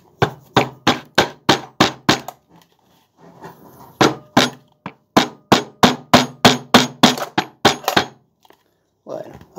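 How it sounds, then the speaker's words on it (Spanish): Rubber mallet striking a 0.5 hp peripheral water pump during disassembly in a workshop, two quick bursts of sharp, evenly spaced, loud blows with a short pause and light handling noise between them. "Vamos a buscar, si está a mano, el martillo de goma."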